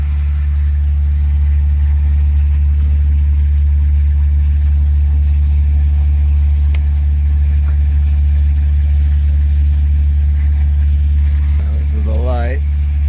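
A pony engine idles steadily at close range, a loud, even low drone that holds for the whole stretch, with a voice speaking over it near the end.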